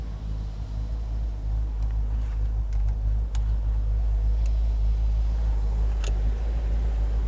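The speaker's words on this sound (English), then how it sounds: "Sounds really nice here at an idle." The V8 of a 1966 Buick Riviera with 30,000 original miles idles in a deep, steady low rumble, close and even, with a few faint clicks above it.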